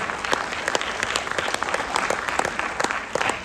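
An audience at a direct-selling business opportunity event in December 2023 bursts into dense, steady applause that stays loud and continuous, with many hands clapping at once and no talk over it.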